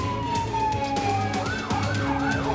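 A fire engine's wailing siren sweeps up and down close by, over traffic noise and a constant low engine hum.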